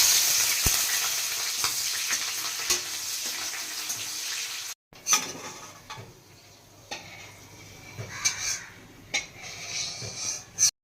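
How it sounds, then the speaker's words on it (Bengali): Onions frying in hot oil for beresta, the crisp fried onion for chicken biryani, with a steady loud sizzle for the first half, then a quieter crackle broken by stirring clinks and scrapes. "এখন আমি বেরেস্তার জন্য পেঁয়াজটা ভাজা করে নিচ্ছি"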